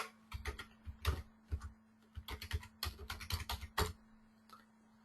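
Keys clatter on a computer keyboard in irregular bursts of quick taps with short pauses between them, fairly close and moderately loud, while a low steady hum sits underneath.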